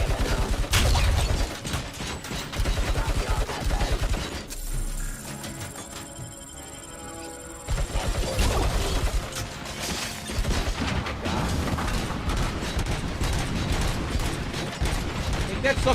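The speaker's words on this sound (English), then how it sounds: "Heavy machine gun." A heavy machine gun in the RoboCop video game hammers away in dense mechanical bursts, loud and close, with a brief quieter stretch in the middle before the fire resumes.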